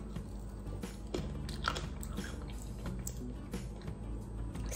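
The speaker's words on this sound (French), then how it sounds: "Ça croustille un peu, mais pas trop quand même." Crispy homemade french fries bitten and chewed up close, with a steady run of small crunchy snaps and mouth sounds and no talking.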